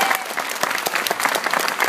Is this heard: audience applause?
yes